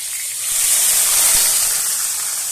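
Pumpkin pieces hit hot oil in a pan and sizzle with a loud, steady, close hiss that swells slightly and holds throughout.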